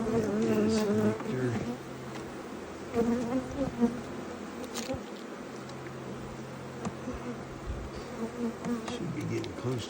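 A honey bee swarm buzzes densely around a hive box during a transfer, a continuous close droning hum of many insects with a few faint handling knocks.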